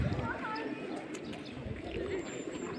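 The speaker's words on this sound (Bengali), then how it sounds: "প্রচুর পায়রা সবসময়ই দেখা যায়" Pigeons cooing among outdoor crowd noise on the Darjeeling Mall promenade, a busy hill-town square; soft coos and faint chirps sit low under steady ambient chatter and bustle.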